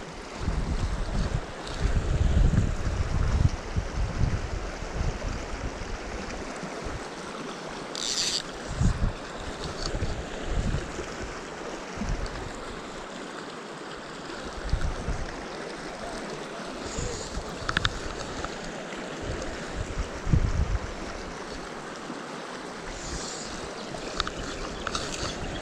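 Steady wind blowing across a lake during trout fishing in the Cooleman area of New South Wales, a continuous rushing roar with gusty swells and low microphone buffeting, loud and close with no talking.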